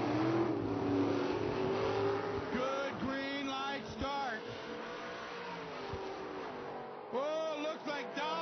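A Corvette Roadster and a Vega wagon drag racing at an IHRA Pro Am event, engines revving and roaring under steady announcer commentary, with rising and falling engine pitch sweeps.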